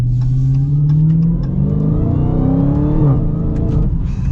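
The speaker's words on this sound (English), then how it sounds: "You can't beat the Hellcat powertrain sound." A Dodge Challenger Hellcat's supercharged engine accelerates hard in manual sport mode, a loud, close, rising roar that drops briefly at a gear change and climbs again, with no voices.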